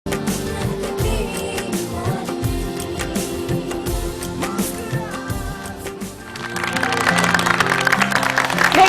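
A studio audience at a morning television show claps, applause that starts scattered under music and swells into a fuller, steady ovation near the end.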